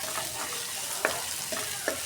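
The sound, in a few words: onions frying in oil for birista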